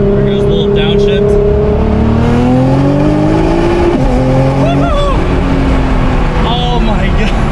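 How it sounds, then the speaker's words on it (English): A 1300 bhp Nissan R35 GT-R fitted with an HKS GT1000+ turbo kit drives close beside a concrete divider wall. It blips a loud downshift, then its engine pitch climbs steadily as it pulls hard under heavy boost. "There goes a little downshift."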